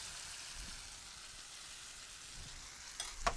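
Yogurt curry chicken sizzles and fries in a pan as crushed tomato goes in, a steady hiss with a couple of sharper crackles and stirring clatters near the end.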